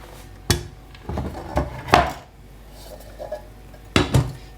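A wooden board set onto a pot to flip bread, giving a few sharp knocks and clatters of wood against cookware with quiet pauses between them.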